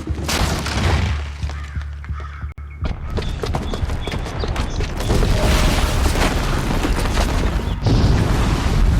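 In the Horizon Zero Dawn video game, a bomb explodes with a deep boom, followed by rumbling debris, crashes and clattering game effects that continue loudly to the end.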